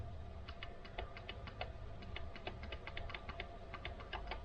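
Faint, rapid clicking of a 2015 Subaru Forester's radiator fan relay, dozens of light ticks in an uneven stream over a low background hum.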